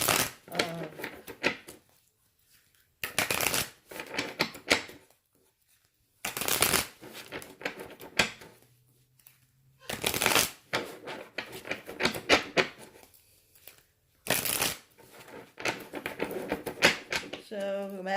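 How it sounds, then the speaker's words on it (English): Repeated bursts of tarot card shuffling, several sharp riffling runs separated by pauses, close and fairly loud, with a voice speaking between the shuffles. "I'm going to shuffle the cards."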